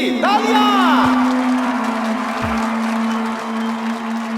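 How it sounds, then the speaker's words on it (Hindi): Applause and cheering from a crowd after a wedding is announced at a gathering in a film scene, a short burst of clapping and shouts over a sustained music tone. "तालियां!"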